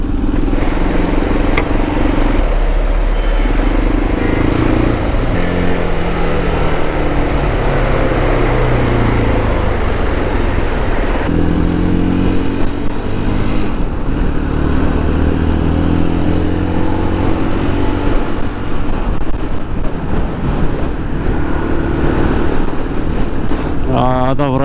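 Heavy, congested traffic on a Bosphorus bridge in Istanbul, with vans and other vehicles making a loud, constant roar and rumble close by. Someone talks over it.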